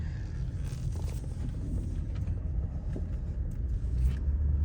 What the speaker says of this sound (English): You can see I'm driving slowly in the neighborhood